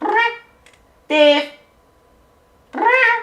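A cat gives three loud, close meows separated by short pauses, each a drawn-out tonal cry.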